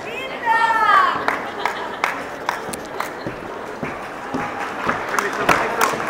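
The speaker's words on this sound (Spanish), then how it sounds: "un aplauso grande porque además le tocó sin música" Audience applause for a Miss Chile pageant contestant at a Santiago runway show, scattered claps rising and falling with sharp individual hits, a brief whistle near the start and crowd chatter underneath.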